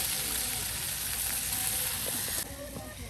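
Beef pieces hit a hot pan beside a riverbank, raising a steady close sizzle with scattered clicks and scraping, which drops to a softer frying hiss partway through.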